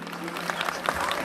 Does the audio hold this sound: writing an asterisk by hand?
no